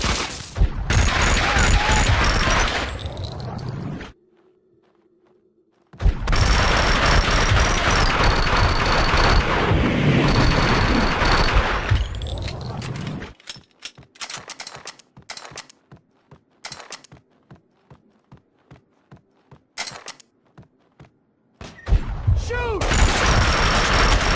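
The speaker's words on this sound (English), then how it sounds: "Shoot!" Dense bursts of gunfire in Max Payne 2, loud fusillades of rapid shots and heavy weapons with a quiet gap early on, then sparser single shots and clicks before another loud barrage.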